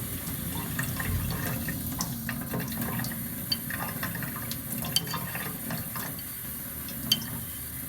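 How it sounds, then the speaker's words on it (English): Tap water runs steadily over an Imperia La Roccia razor sharpening stone, making a constant close splashing rush with a few faint clicks and knocks and no voices. "All right, under running water."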